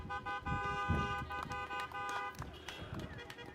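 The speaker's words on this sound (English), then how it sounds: "feel free to give us a wave out of your sunroof or give us a honk just to say hello" Car horns honk repeatedly at an outdoor drive-by graduation ceremony, with sustained tooting and overlapping blasts over engine and crowd noise while people talk nearby.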